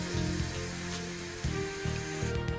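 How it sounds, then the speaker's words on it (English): Deeplube lubricant sprays from a can into a container in short pressurized hissing bursts, several spurts in a row, close and fairly loud with a steady electrical hum underneath. "I'm going to spray Deeplube right into the container"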